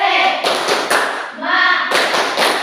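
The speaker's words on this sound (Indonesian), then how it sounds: "Tepuk semangat." A classroom group doing a rhythmic spirit clap, bursts of hand claps in a set pattern mixed with voices chanting together, close and loud.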